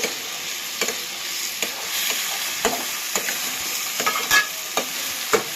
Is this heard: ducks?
no